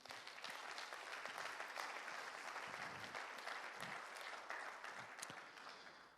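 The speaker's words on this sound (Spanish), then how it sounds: "otro aplauso para Dios por eso" A church congregation breaks into sustained applause, a dense, even wash of many hands clapping at a distance, holding steady for several seconds before easing off at the end.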